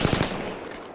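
Rapid automatic gunfire in Apex Legends: a quick burst of three sharp, close shots in the first quarter second, then a fading rumble of echo.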